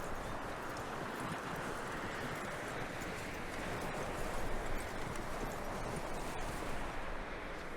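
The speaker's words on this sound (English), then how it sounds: "That looks like a decent horse." Quiet, steady horse hoofbeats in Red Dead Redemption 2, a soft continuous clopping on the ground under faint ambient noise, with no clear whinny.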